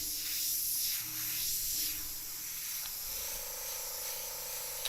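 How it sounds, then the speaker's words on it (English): A Badger Omni 3000 airbrush sprays paint onto a T-shirt, a steady close airy hiss pulsing slightly as the trigger is worked, with no talking. "I like the Omnis because they spray a lot of paint."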